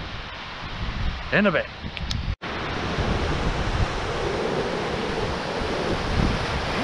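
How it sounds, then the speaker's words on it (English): Wind gusts at the seashore in a steady, loud rush with buffeting on the microphone, and a voice speaks briefly near the start. "the wind's getting up again"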